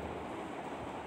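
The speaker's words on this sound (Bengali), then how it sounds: "বৃষ্টি শুরু হয়েছে, একটু হালকা বাতাসও আছে" Steady rain falls in Dhaka under a darkening sky, with a light wind adding a soft, even rush; the wash of sound stays constant and fairly quiet throughout, with no voices.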